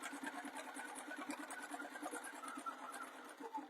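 A sewing machine runs steadily, stitching a second decorative line along a faux leather bag seam, with a fast even whirring rhythm, close and continuous with no voices.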